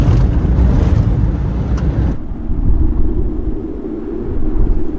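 A car speeds over a bumpy desert road, its low engine and road rumble filling the cabin, steady and loud, with a brief higher rattle early on before the sound drops to a duller drone.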